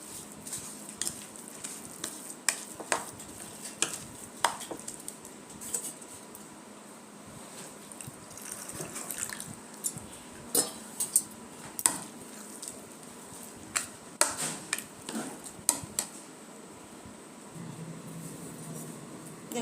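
Spoon scrapes and taps through semolina and yogurt batter with a little water in a bowl, irregular stirring clicks and scrapes in bursts, close and moderately loud, no talk.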